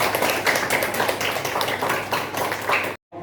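Dense applause from a classroom or lecture audience, many hands clapping steadily and fairly loud for about three seconds before stopping abruptly.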